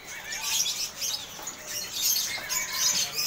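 White canaries at a bird market kiosk chirp in quick, bright bursts of high tweets, fairly close and continuous, with faint wing flutter and no talking.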